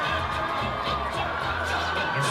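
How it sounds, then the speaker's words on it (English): Fans in pink cheering at a boys varsity high school football game, Redondo Union against North Torrance, a broad wash of crowd noise with children shouting and occasional whoops, fairly loud and unbroken. "This pink crowd hyped."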